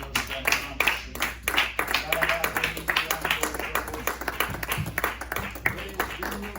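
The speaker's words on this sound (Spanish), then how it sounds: "Denle un fuerte aplauso al Señor." A church congregation claps in praise during a worship service, a rhythmic, moderately loud run of hand claps mixed with voices and faint background tones throughout.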